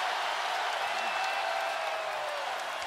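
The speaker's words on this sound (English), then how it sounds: "the crowd's starting to celebrate" Crowd cheering and applause in an NBA 2K25 basketball video game during a Knicks vs. Celtics matchup, a steady wash of crowd noise with a voice talking over it throughout.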